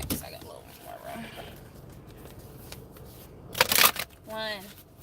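Tarot cards being shuffled at close range, a brief loud riffling burst followed by a short tonal sound, with quieter rustling before it.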